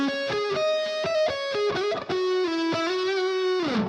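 Distorted electric guitar plays the opening part of a shred solo lick, a run of bright sustained notes and quick slides with sharp picked attacks, loud and close, ending on a held note that fades.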